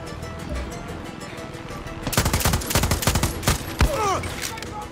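Gunfire in the video game Far Cry 6: quiet background ambience, then a loud, sustained burst of rapid automatic fire with a few heavier single shots and ringing echoes.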